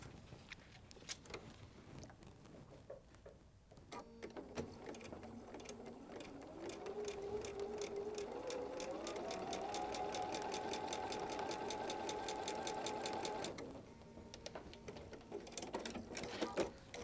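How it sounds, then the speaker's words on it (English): A sewing machine stitches a quarter-inch seam in fabric for a table runner, starting with a few slow stitches, then running a steady whirring, rising-pitched stretch before slowing and stopping near the end. "Sewing a 1/4 of an inch."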